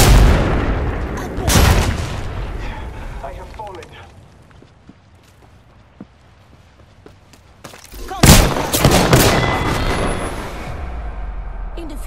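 Gunfire and explosions in the video game Apex Legends: a loud booming burst, a quieter stretch with faint distant shots, then another heavy blast and a sustained rumble, with a voice speaking at times.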